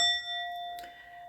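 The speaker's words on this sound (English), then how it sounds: "Let's get the bell on that again." A single clear bell strike rings out and decays slowly with a sustained tone, followed by a brief soft clatter partway through.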